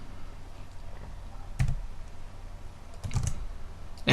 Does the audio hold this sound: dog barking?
no